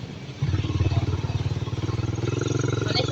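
Motorcycles idle and rumble nearby in a public market parking area, a sputtering engine throbbing loudly with a rapid pulsing rhythm that starts abruptly and continues, with busy ambient clatter around it.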